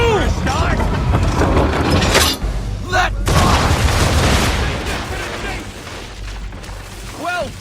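Ship cannons fire a broadside in Assassin's Creed 3, loud booming blasts with crashing, splintering impacts over rough, continuous game noise, while voices shout over the battle.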